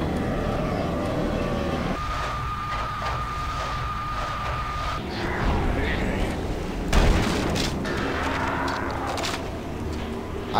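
Gunfire from the shooter game Doom 3, with loud blasts over a steady rumbling game soundtrack, a sharp heavy burst near the middle, and someone talking over part of it.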